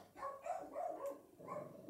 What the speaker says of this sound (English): What is he barking at, Barn?